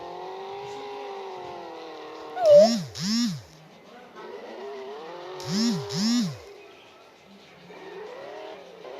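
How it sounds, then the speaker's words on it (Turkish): A car's exhaust pops and bangs during drifting, heard as two pairs of sharp, loud bursts over a droning, engine-like hum. "egzoz patlatmayı göstermiştim."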